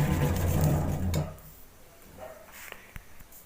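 220V AC fan run from a 12V DC battery without an inverter: a loud, buzzing motor hum with a steady low drone that cuts down to quiet after about a second, followed by a few faint clicks.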